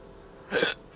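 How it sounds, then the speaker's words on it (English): A single short, abrupt hiccup from a Genshin Impact character, voiced close and clear, popping out of quiet background for a fraction of a second. "Ugh, hiccups."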